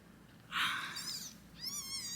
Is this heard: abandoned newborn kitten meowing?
yes